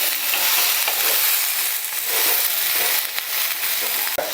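Mixed vegetables being stir-fried with spices in a pan, a steady close sizzle with scraping stirs through the whole stretch and one sharp knock near the end.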